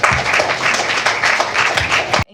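A crowd at a Tamil–Maori hui event applauds with dense, steady clapping that continues for about two seconds and then stops abruptly.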